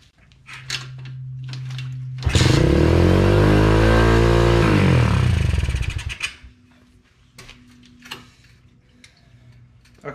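An Apollo Z20 dirt bike with an upgraded carburetor starts and roars at a high, steady idle for about four seconds, loud and close, then falls away to light ticking and clicking.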